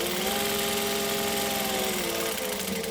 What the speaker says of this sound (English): And then I'm going to stitch, back stitch to lock in that edge.